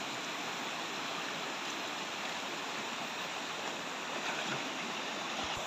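A river stream flows with a steady broadband rush of water at Batu Kembar during fish catching, close and continuous, with no talking.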